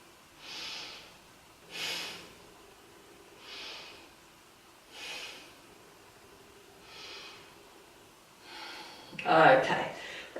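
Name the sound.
breathing during a yoga pose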